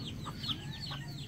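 A chicken clucks outdoors in an African village in Uganda near a cooking fire, a few short faint calls over quiet background noise, with no talking.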